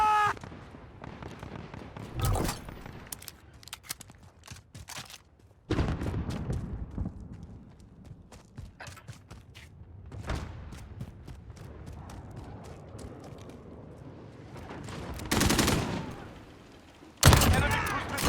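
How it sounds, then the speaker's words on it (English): Automatic sentry gun fire in a Modern Warfare match on a sawmill map: rattling bursts of gunfire and sharp booms come in loud clusters, mixed with other battle noise and a few radio-style voice lines. "Enemy sentry gun."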